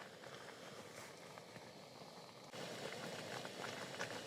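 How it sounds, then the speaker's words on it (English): Water boils on a camp stove during an evening garden campout, giving a faint, steady bubbling hiss that grows slightly louder partway through. "It's boiling already."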